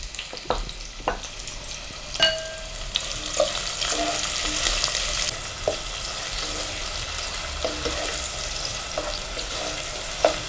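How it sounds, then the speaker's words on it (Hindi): Chopped onions frying in hot oil in a kadai for kadai paneer, a loud continuous sizzle with occasional scrapes and clinks of a stirring spoon, no voices. "तेल हमारा गर्म ही है, इसमें हम डाल देंगे कटी हुई प्याज और इसे फ्राई करेंगे।"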